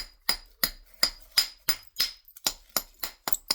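Stone knapping: a striker taps small flakes off a stone edge in about a dozen crisp, evenly paced clicking strikes, close and clear with no talk.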